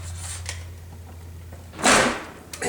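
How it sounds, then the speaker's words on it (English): The door of a 1997 Chevy truck under rust repair thumps shut once, loud and close, against a low steady hum, with a few faint knocks before it. "So I'm gonna shut this door."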